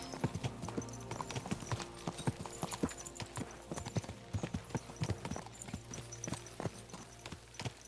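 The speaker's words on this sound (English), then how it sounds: "Let's really spur these horses on, eh?" Horse hooves clip-clop in a steady, quick rhythm on a road in the video game Kingdom Come: Deliverance II, several beats a second, moderately close with faint background ambience.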